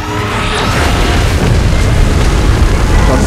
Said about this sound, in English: Wait, is it gonna fire a beam at us?